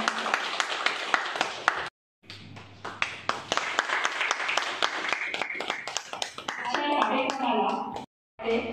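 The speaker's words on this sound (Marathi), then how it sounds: "एकदा सगळ्या टाळ्या होऊन जाऊया" An audience bursts into sustained applause at a Teachers' Day honouring function held by a consumer justice council, dense clapping that carries on for several seconds with a voice speaking through it.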